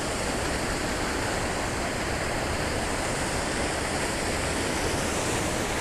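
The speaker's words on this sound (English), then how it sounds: "Beautiful set of waterfalls." A set of waterfalls on the Isle of Mull pours with a steady, dense roar that stays close and constant throughout, with no voices over it.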